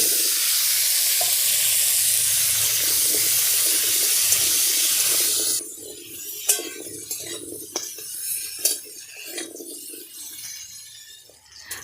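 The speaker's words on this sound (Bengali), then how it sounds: "এবার আলু ভেজে নেব।" Potatoes frying in mustard oil left over from frying fish in a village kitchen, a strong continuous sizzle that abruptly quiets about halfway, then gives way to scattered spatula scrapes and metal clinks against the pan.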